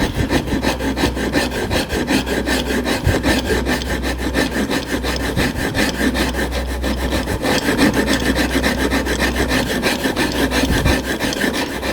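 A hand rasp shapes a wooden headrest for a sculpted rocking chair, making steady, loud, continuous rasping strokes up close with no pauses and no talking.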